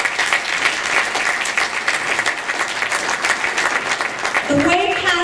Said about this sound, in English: a round of applause to you for having the courage to do that